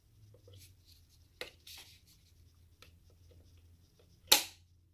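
Faint rustling and handling noises lead to a single sharp, snappy click as a magnetic nozzle snaps onto a Dyson Supersonic hair dryer near the end, close and crisp against quiet.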